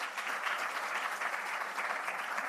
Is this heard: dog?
no